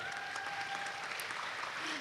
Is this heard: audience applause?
yes